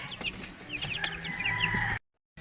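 Farm chickens cluck softly in a new coop on a rural plot, with scattered close chirps and clucks over low background noise before a sudden cut to silence.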